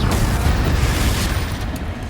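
A Confringo blasting spell explodes in the Hogwarts Legacy video game, a loud, deep booming rumble that fills the short moment and slowly fades.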